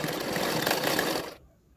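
A sewing machine runs a quick seam through a folded pleat on a Katori blouse, giving a short, close, rapid whirring burst that stops abruptly.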